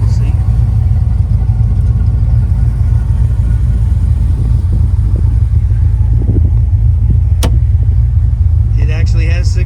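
A 1932 Ford steel roadster with a 327 engine and four-speed runs at a steady idle, a strong low rumble throughout with a faint click and some light background noise near the end.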